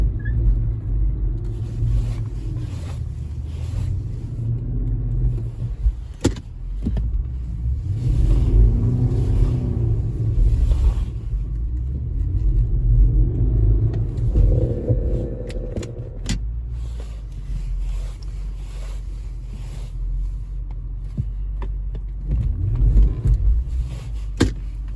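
An Infiniti FX50 on bald tires climbs a hill in a snow storm, its engine giving a steady low rumble that swells and eases as it pushes upward, heard from inside the car.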